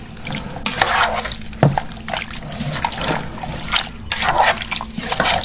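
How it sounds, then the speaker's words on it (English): A spoon stirs Italian chicken stew with basil in a pot, making wet scraping and sloshing sounds with a few sharp clanks against the pot, close and fairly loud. "I'm going to give this a stir."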